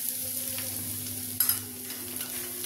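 Grated coconut roasting in ghee in a pan for modak filling, a quiet continuous sizzle with two quick scraping stirs close by.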